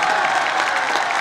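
A school event audience breaks into a short, dense wash of continuous applause with a faint crowd murmur, loud and sustained across the whole burst.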